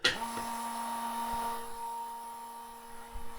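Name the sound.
foot-pump vacuum press pump sucking air out of bag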